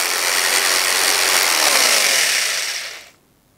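Clipperman Agri electric sheep shearer running steadily, a loud dense buzzing whir held for about three seconds before cutting off abruptly into near silence.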